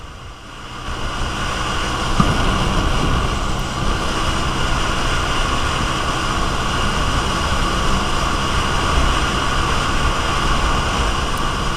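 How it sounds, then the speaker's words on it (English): A 2007 Roketa Bermuda 150 scooter at wide open throttle, its engine droning steadily and loudly with heavy wind rush, building slightly after the first couple of seconds and holding for the rest. "So here I went wide open throttle with it just to see how well it pulls."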